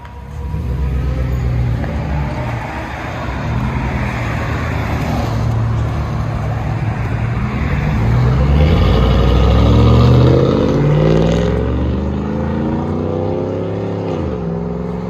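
A 2002-2006 Cadillac Escalade with the 6.0L engine and a Dynomax Super Turbo exhaust rumbles loudly and close, its deep drone building through a rev, then easing back as the pitch rises and falls.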